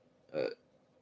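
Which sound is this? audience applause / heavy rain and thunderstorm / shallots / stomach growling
stomach growling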